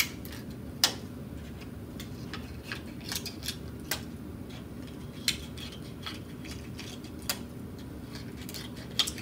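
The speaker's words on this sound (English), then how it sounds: "you want to take your scissors and you want to round off each section so that it looks like a petal." Scissors snip through a plastic water bottle, rounding its sections into flower petals, giving a run of sharp, scattered clicks over a quiet background with no talking.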